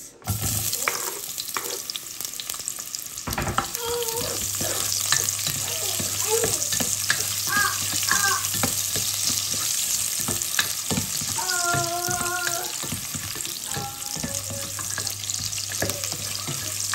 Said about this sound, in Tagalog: Igisa muna natin ang ating sibuyas.